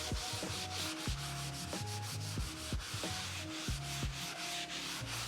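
Cloth rubbing steadily over pine floorboards to wipe off excess Treatex wood finish, a continuous scrubbing sound heard close up with no talk.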